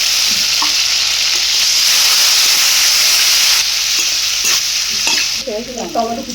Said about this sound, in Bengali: ভালো করে মশলাটাকে একটু ভেজে নিতে হবে